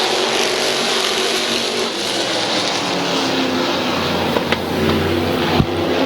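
Race cars roaring through an eight-lap heat race at Midvale Speedway, a loud, continuous blend of engines droning and revving from the pack, with occasional sharper bursts as cars pass close by.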